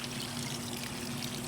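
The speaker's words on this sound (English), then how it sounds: "then what you do is you fill it up with water" Water pours steadily from a hose or container into a bucket of fresh grass clippings, making a continuous, even rushing trickle that is loud and close with no pauses.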